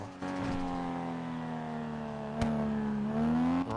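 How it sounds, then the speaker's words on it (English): A car engine drones steadily from inside the moving vehicle, a sustained tonal hum that dips and then climbs as it revs up near the end, with a brief bump partway through and no talking. "Let's just, listen to the roar of the engine."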